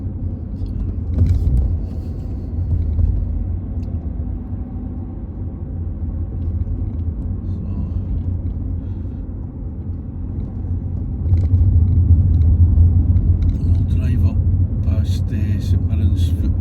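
Car driving through the streets of Paisley, Scotland, toward Underwood Road, a steady low engine and road rumble heard from inside throughout, growing slightly louder toward the end, with faint clicks and rattles.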